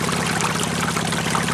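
Water carrying stream gravel runs through a gold prospecting sluice box in a continuous, loud, rushing pour with no pauses.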